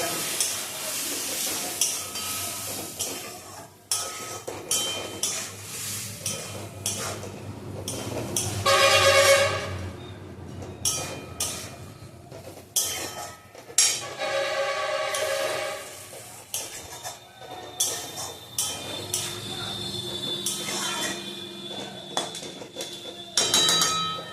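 Chicken curry spice paste frying in a pan with a splash of water, stirred repeatedly so a spoon scrapes and clatters against the metal over a low, steady sizzle, with loud irregular bursts of scraping and brief pauses between strokes.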